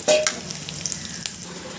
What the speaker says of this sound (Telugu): ఇలా మిరపకాయలు వేయించుకోండి సరిపోతుంది